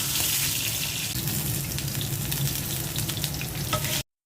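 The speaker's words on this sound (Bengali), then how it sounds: "মুরগিটা ভাজা হয়ে গেছে" Chicken frying in oil in a home kitchen, a steady loud crackling sizzle that runs unbroken for about four seconds before cutting off abruptly.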